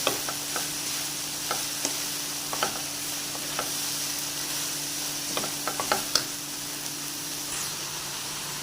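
Filling for Chinese chicken rolls is stir-fried in a pan, with a steady sizzling hiss over a low hum and regular light clicks of a spatula against the pan.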